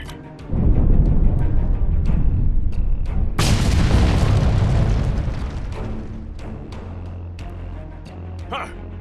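A Star Trek Online explosion: one deep booming blast erupts and then a second, larger roaring detonation follows, loud and rumbling before slowly fading over several seconds, with no voices.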